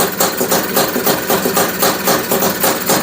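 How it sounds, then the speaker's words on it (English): Honda Odyssey FL350 engine idling through a newly fitted DG exhaust, a loud, close, steady low rumble with a regular pulsing throb and no talking. "I think it's idling a little slow though."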